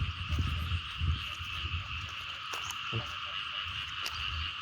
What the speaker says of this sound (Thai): กบลายลูกพี่น้องเอ้ย